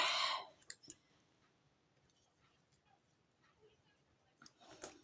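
Scissors snip through material for a Christmas tree decoration, a few sharp close cuts at the start and end with faint clicks between, fairly quiet.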